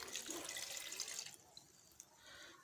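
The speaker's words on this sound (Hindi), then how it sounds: "ये स्ट्रॉबेरीज इसके अंदर डाल लें, ये, और इसके साथ ही इसमें हम ये दूध डालेंगे।" Milk is poured from a glass over strawberries in a blender jug for a strawberry milkshake, making a soft, quiet liquid splash and trickle that tapers off into a few faint drips.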